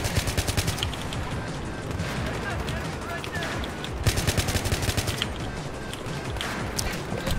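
Burst fire from an AN-94 rifle in a video game: rapid volleys of loud, close gunshots repeat almost continuously, with short breaks between bursts.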